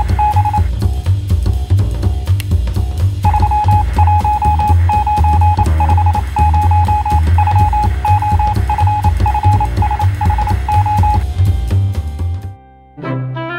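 Telegraph Morse code sends a single high tone keyed in short and long pulses, sitting over a loud busy background bed and cutting off abruptly near the end.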